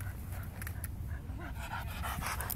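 Dogs pant rapidly and close by in a continuous, breathy rhythm with no voices over them.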